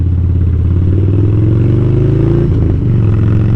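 A motorcycle's deep, rumbling exhaust runs steadily and loud, with a throaty low growl that dips briefly, then settles back into its idle-like thrum.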